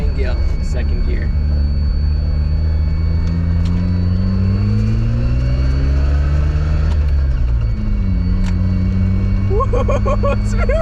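A Mazda RX-7 pulls away and accelerates, its engine note rising in a long sweep, then dropping and climbing again as it shifts up into second gear, loud and close from inside the car, with voices talking over it.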